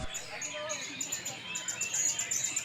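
Songbirds, including murai, chirping at an outdoor songbird contest, with rapid high tweets and trills repeating throughout, fairly faint over a busy background of crowd noise.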